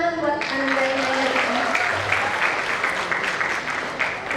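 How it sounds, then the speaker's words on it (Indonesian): An audience applauds students at an Islamic boarding junior high school graduation ceremony, with sustained dense clapping across the whole stretch and a brief voice at the start. "Tepuk tangan dong buat Ananda yang lain."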